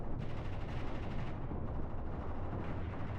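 Anti-tank guns firing in a World War II strategy video game on the Mius Front, a dense, distant-sounding rumble of repeated booms and gunfire blending into continuous battle noise, fairly quiet.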